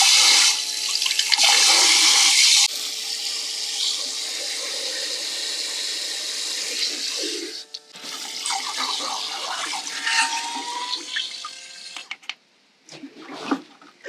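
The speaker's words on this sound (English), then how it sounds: "Okay, so that's a little shower." A portable camping shower sprays water in a steady hiss, louder at first then softer, breaking off and restarting with intermittent gurgles and spurts near the end, close by, no talk.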